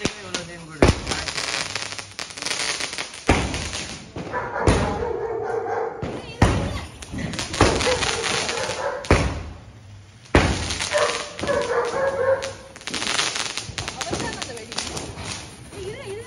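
Diwali firecrackers burst in a string of loud sharp bangs and cracks outdoors, with glassy crackling between blasts and people talking over them.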